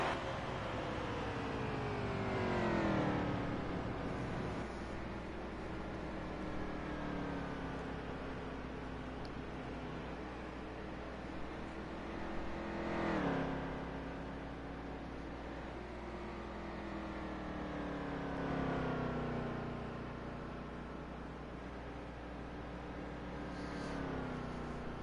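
Race cars lap an oval in NASCAR Heat 3 at Iowa, engines droning steadily with rising and falling pitch sweeps as cars pass and shift, a continuous loud motor roar with no talk.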